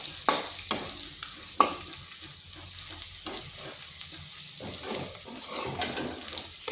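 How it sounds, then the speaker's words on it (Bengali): A potato and egg mixture sizzles steadily in a pan while a spatula stirs and scrapes it with irregular knocks, close up and with no talking. "এইভাবে নেড়ে চেড়ে আলুর সাথে ভালোভাবে মিশিয়ে নিচ্ছি।"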